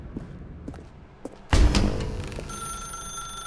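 A telephone rings in the office setting of The Stanley Parable video game, a loud, close bell-like ring that bursts in suddenly and keeps sounding with a sustained metallic tone after a few faint taps.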